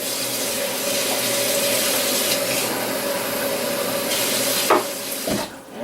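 Tap water runs steadily into a pan of condensed tomato soup in a home kitchen, a continuous hissing splash with a few clinks near the end before the flow stops.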